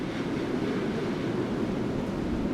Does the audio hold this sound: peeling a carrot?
no